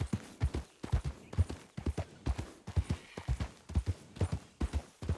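Horse hooves clatter over rocky, stony ground in a video game, a steady rhythmic clip-clop of repeated sharp, close, fairly loud impacts with no talking.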